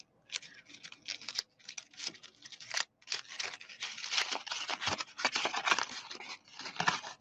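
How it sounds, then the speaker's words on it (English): Crumb cake cardstock paper is crumpled by hand close up, giving repeated bursts of crisp crinkling and crackling with short pauses between squeezes. "So then you crumple it up again."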